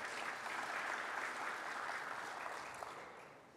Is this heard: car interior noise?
no